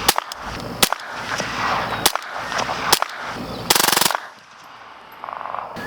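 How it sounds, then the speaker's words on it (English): Suppressed MP5-K fired semi-automatic with 115 grain supersonic ammunition: several sharp, separate reports at uneven intervals, close and loud, with one longer burst-like blast near the middle. "Alright, let's throw our suppressor on. We're still shooting 115 grain supersonic ammo. We'll start out in semi-automatic this time."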